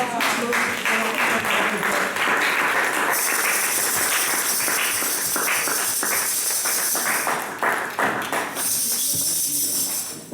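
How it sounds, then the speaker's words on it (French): A church congregation claps and cheers loudly for God during a French-language sermon, a dense, sustained wave of applause filling the room, with voices mixed into the noise. "si nous pouvons acclamer très fort mon Dieu"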